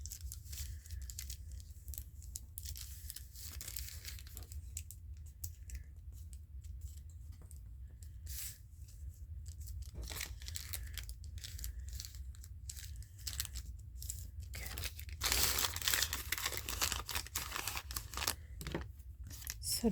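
Scissors snip through paper cards in soft, irregular cuts, with faint crinkling and rustling of the cards between snips; the sounds are quiet, close and scattered, growing a little busier toward the end.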